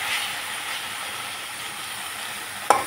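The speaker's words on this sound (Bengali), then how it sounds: "মশলার সাথে আমি আলুও ভালোভাবে কষিয়ে নিলাম।" Potatoes frying with spices in a pan give a steady broadband sizzle and hiss throughout, close and even, with a brief sharp clink near the end.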